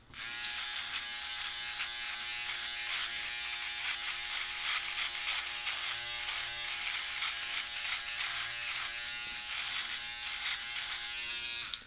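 Philips Norelco OneBlade electric shaver fitted with a comb attachment at the 0.4 setting, buzzing steadily and close for the whole stretch with crackly bursts as it cuts stubble, no talking.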